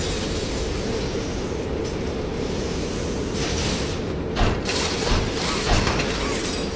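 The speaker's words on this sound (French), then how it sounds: "Là, la machine va assembler." The toy assembly machine runs in the Poppy Playtime video game, a steady, dense mechanical rumble and whir with ratcheting clanks and a few sharper metallic knocks near the end, continuous and fairly loud with no voices.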